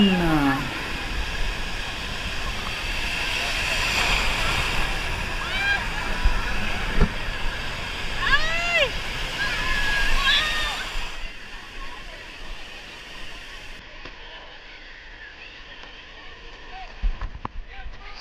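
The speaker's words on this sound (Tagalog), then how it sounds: "Ayan na ang alon." Sea waves wash and slosh continuously nearby on Tondaligan Beach, Dagupan City, with people talking and calling out over the water throughout.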